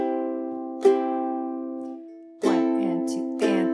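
Ukulele strummed in a rhythmic pattern for a song, sustained chords ringing clearly with sharp strums about every second and a half, played alone without talk.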